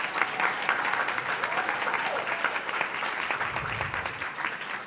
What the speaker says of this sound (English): Can everybody please clap for Abigail?